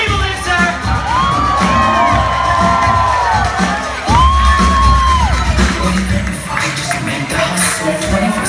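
A live concert crowd screams, whoops and cheers loudly and continuously at a live show, with rising shrieks and a dense roar of many voices close around.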